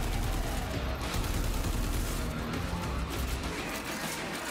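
Heavy, continuous gunfire and explosive crashes from the Warframe 1999 video game trailer fill the whole stretch as a dense, loud barrage with no pauses.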